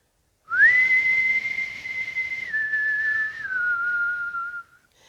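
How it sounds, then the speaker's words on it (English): One person whistles a single sustained note for about four seconds, stepping down slightly in pitch twice before trailing off, clear and alone against silence. "And then whistle back."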